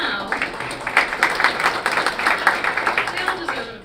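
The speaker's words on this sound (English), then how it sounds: "they all deserve an applause" Applause from an investor-panel audience, many hands clapping at a steady, moderate level throughout, with a voice occasionally heard over it.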